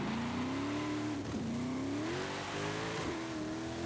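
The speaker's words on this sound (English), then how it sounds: "I accidentally downshifted in the second there" Car engine in a racing game, about 1,000 horsepower, revving on a downshift: a loud, steady engine whine rising in pitch, dipping at each gear change, and climbing again.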